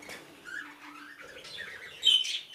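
Two rainbow budgerigar chicks in an aviary give soft, close squawks and chirps, with a brighter, louder call near the end and quiet pauses in between.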